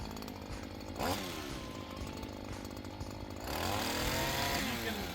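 A small two-stroke engine screams at full throttle, a loud steady buzzing whine that surges briefly, then climbs higher near the end.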